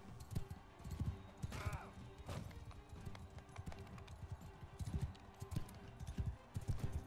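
Horse hooves clip-clop in a fast gallop in the Mount & Blade II: Bannerlord video game, with players talking excitedly over the rhythmic beats.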